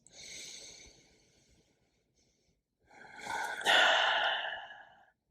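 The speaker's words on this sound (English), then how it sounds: "Just take a couple more really deep breaths." Two deep exhalations during a guided yoga breathing session, the first a softer rushing breath, then a pause, then a louder, longer airy exhale with no talking.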